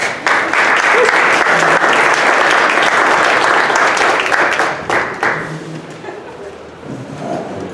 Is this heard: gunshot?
no